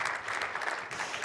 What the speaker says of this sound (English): Round of applause for Ruben's baby.